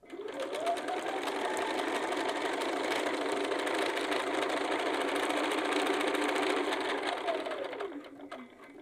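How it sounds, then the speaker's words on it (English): A sewing machine stitching along the edge of fabric pockets in one continuous close, loud run with a rapid mechanical whir, slowing and stopping near the end. "And then sew back over to the edge."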